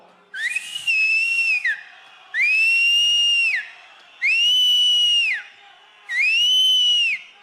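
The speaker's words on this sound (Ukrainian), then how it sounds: "Ну давайте разом посвистимо." A crowd at a political rally whistles together in four long, loud sustained blasts, each a few seconds long and separated by short pauses, with a faint crowd murmur in the gaps.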